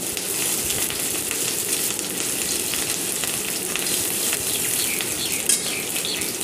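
Chopped onion and green chilli frying in a pan give off a steady, close crackling sizzle throughout, with occasional light stirring and no talking.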